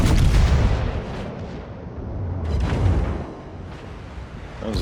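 Naval gunfire from the battleship Colorado in a naval warfare video game: heavy booming blasts with a loud rumbling low end, a big burst at the start and another swell near the three-second mark, with no talk.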